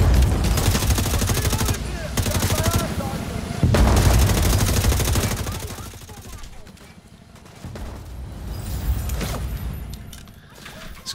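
Heavy automatic gunfire in The Division 2 at a bank headquarters, loud sustained bursts that keep rattling with brief pauses and then fade into quieter, more distant shots, with some voices mixed in.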